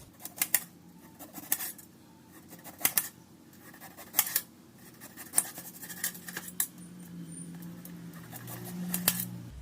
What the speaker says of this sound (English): now I am going to make thin slices